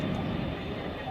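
A British Airways airliner on landing approach to Heathrow passes overhead, its broad steady engine roar filling the clip at fairly close range, with faint voices underneath.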